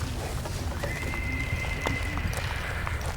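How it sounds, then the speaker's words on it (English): A wild young horse under its first rider neighs with a long, high whinny over steady background noise and movement, the call carrying clearly for a couple of seconds. "she's going a bit wild because she's a wild horse"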